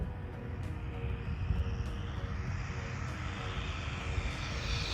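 A Jetwood JC14EP RC plane, an MJX clone running on 4S with a $30 ESC, screams past at full throttle, a steady high-pitched electric motor whine held for several seconds, close and loud, with no talking.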